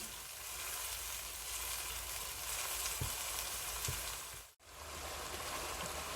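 Masala sizzles and fries steadily in a pan for mash dal, a continuous close hiss with a couple of soft stirring scrapes and one brief cut-out near the end.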